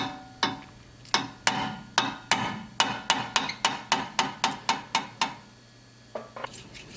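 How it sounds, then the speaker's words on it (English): A hammer taps metal repeatedly on a Skoda Octavia wheel carrier during wheel bearing work, about fifteen sharp ringing strikes in a steady, quickening rhythm, then a brief pause and a couple of lighter taps. "and some taps and some more taps"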